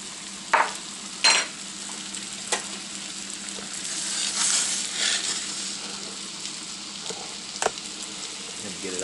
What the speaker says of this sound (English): That butter's starting to brown, so I'm going to get it off of there.